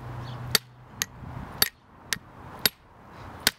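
Sharp metallic hammer strikes on the seam of a microwave transformer land one after another at a steady pace, six distinct blows ringing close by with quiet gaps between.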